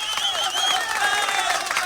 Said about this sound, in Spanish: vamos a darle un aplauso para el Poder Judicial